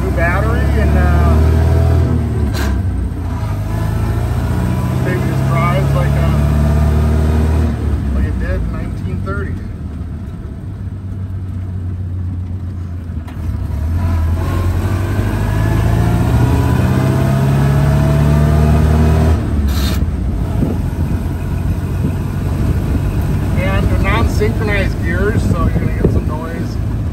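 A 1930 Ford Model A Standard roadster engine drones steadily while driving, with wind buffeting the microphone and a voice talking over it.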